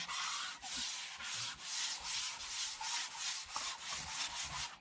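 Steady back-and-forth strokes of 300-grit sandpaper rubbed by hand across a sealed furniture surface, a continuous close abrasive hiss with rhythmic swells at each pass.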